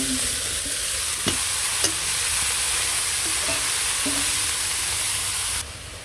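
Green chilies and leafy greens frying in a pan, a steady close sizzle with occasional stirring clicks, with no talking.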